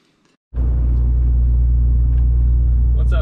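Inside a truck: after a short quiet start, a deep, loud engine and road rumble begins abruptly and holds steady, close and low, with a little faint noise on top near the end.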